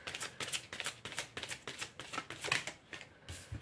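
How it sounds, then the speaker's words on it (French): A deck of tarot cards is shuffled up close, a quick run of crisp riffling flutters in a steady, repeating rhythm, fairly quiet and with no talking. "Je vais tirer une dernière carte."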